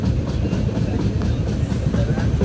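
A Konkan Railway train runs with a loud, steady low rumble and rattle of the carriage that holds unbroken throughout.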